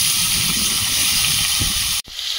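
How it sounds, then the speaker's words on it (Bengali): Potato pieces fry in hot oil in a kadai, giving a dense, steady, close-up hiss that cuts off sharply near the end. "আলুটা ভেজে নেব।"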